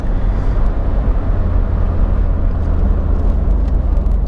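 A Smart Fortwo engine pulls hard uphill while overtaking two cars, a loud, steady low drone and whir heard from inside the cabin without pause.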